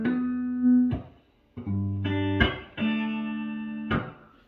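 An Ibanez GAX70 electric guitar in a clean tone plays a few ringing chords and notes, each allowed to sustain and decay, with short gaps between them and no talking.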